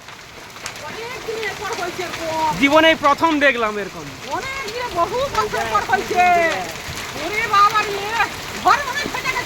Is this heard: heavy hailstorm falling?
yes